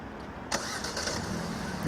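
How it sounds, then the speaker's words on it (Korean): Hyundai Elantra N Line with a 1.6 turbo engine starting by remote in a quiet spot: the starter catches about halfway through, then the engine settles into a steady, fairly quiet idle. "지금처럼 시동이 걸립니다."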